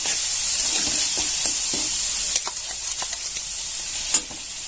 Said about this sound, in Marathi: एक मिरची आलं लसूण छान असं परतून घ्यायचं त्याचा वास निघून गेला पाहिजे